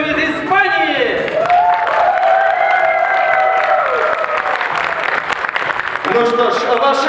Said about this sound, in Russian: ваши аплодисменты, которые адресуются нашему гостю из Испании